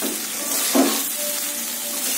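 Rice being stirred and mixed into a frying pan mixture for a home dinner, with a steady sizzle and a brief clatter of the utensil against the pan near the start, close up.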